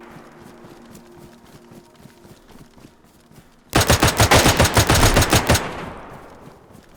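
Gunfire in the video game DayZ: a sudden loud burst of rapid automatic shots, about a dozen evenly spaced cracks over two seconds, following a quieter stretch of low ambient game sound and ending in a short fading tail.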